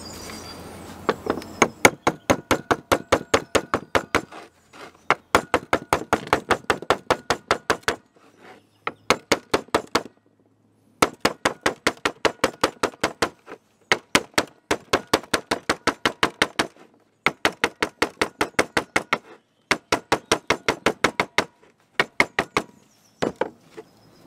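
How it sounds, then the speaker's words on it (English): Rapid bursts of sharp metallic taps repeat in quick runs separated by short pauses, close and crisp, with no talking, as a part is tapped into its housing during a boat saildrive diaphragm replacement. "now I'll try and gently tap this home."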